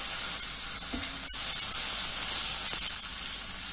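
Onion and garlic sizzling in butter in a pan, a steady bright hiss throughout with a faint stir or tap partway through.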